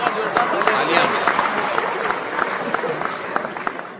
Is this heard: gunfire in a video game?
no